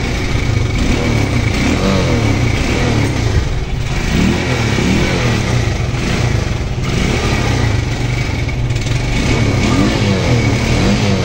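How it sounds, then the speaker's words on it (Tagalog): A small gasoline engine that is smoky and misfiring runs steadily and loud up close, its uneven, sputtering beat continuing throughout with no voices. "kung bakit mausok tapos namumugak yung andar"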